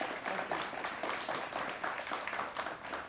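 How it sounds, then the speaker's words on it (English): Audience applause for three speakers at a technology career day, a steady wash of clapping throughout at moderate loudness, fairly distant and even. "So a big hand of applause for JD, Beth, and David."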